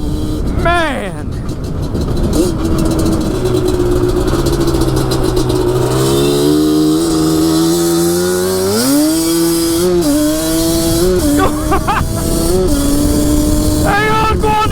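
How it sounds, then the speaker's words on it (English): Yamaha Banshee ATV ridden off-road, its two-stroke engine loud and close, revving up and down in rising and falling surges as the clutch is dumped, with a voice exclaiming over the noise. "out here I can just dump the clutch and it spins"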